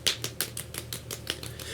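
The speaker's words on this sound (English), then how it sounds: "golf clap for Ethan" Soft polite golf clapping, about eight light, evenly spaced claps in under two seconds, close and dry with no voices over them.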